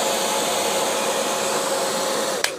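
A hair dryer runs with a steady, loud whooshing whir, then a click near the end as the airflow stops.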